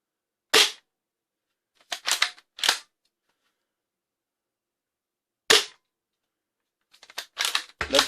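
A Nerf Pro Gel Fire Ghost blaster fires gel rounds, some of which burst inside the barrel: sharp snapping shots, one alone, then a quick cluster of three, another lone shot and a final rapid burst, loud and close with silence between.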